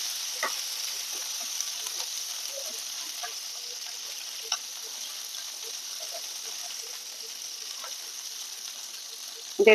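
Green chillies with stems left on and cumin seeds frying in hot oil for a spicy yogurt chilli dish, giving a steady soft sizzle with scattered faint pops and clicks throughout and a brief clatter at the end.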